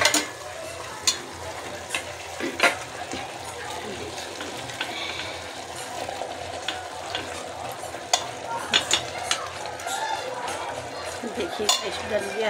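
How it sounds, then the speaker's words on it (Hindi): Chicken sizzles and fries steadily in masala in a pan, with repeated clinks and scrapes of a spoon stirring, and occasional louder knocks. "अब हम इसे तरीके से खूब भुनेंगे"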